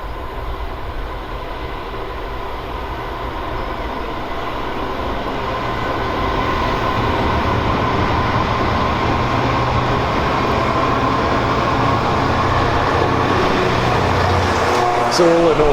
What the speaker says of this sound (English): I'll show you a Freightliner coming through